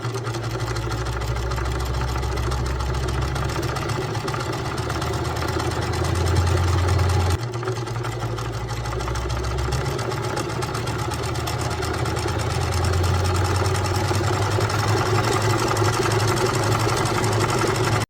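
A sewing machine stitches pieces of old jeans together, a steady loud mechanical hum and whir running continuously with a brief pause midway.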